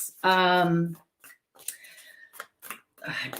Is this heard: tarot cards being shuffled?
yes